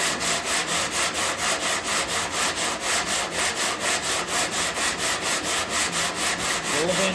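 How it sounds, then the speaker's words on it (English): Sandpaper on a sanding block scraping over rough primer on a C10 pickup tailgate, a loud gritty back-and-forth rub in an even, rapid rhythm throughout. "All that grittiness on that sandpaper on that rough primer"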